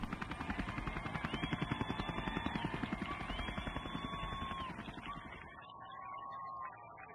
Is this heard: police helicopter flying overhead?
yes